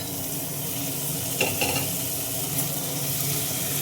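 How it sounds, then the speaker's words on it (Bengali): Capsicum, chopped onion and chili frying with potato and carrot in a pan for Kolkata street-style egg chowmein, a loud, steady sizzle close by with a few quick stirring scrapes. "এবার এগুলো হালকা ভেজে নেব"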